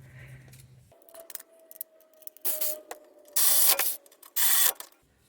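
Ratchet wrench tightening strut bolts on a Mercedes GLK: a quick series of clicking ratchet strokes, then several loud, close bursts of rapid ratcheting separated by short pauses.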